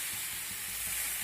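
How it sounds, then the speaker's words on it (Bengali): Water hits a pan of frying lentils and potatoes, and a soft, even hiss and sizzle follows for a moment with no talking. "এখন আমি এর মধ্যে দিয়ে দেবো পরিমাণ মতো জল।"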